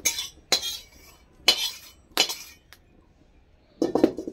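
A metal hamal dista mortar and pestle pounds red-fried spices for a chutney, producing about five sharp, ringing clinks spaced roughly a second apart, close and alone.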